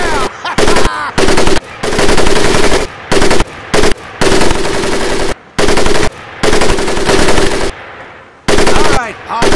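Bursts of machine gun fire ring out in a World War II Pacific shooter game, loud rapid strings of shots separated by short pauses, with brief voice lines between volleys.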